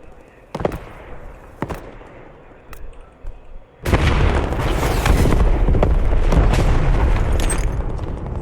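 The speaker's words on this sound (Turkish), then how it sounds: "Havada zıplarken bomba atıyorlar." Grenades burst repeatedly in a Call of Duty Black Ops Cold War match: a few sharp, scattered blasts at first, then a dense, loud barrage of overlapping explosions and booms that continues without a break.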